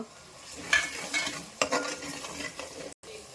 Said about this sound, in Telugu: అంతా వేసి నూనెలో వేయించుకోవాలండి బాగా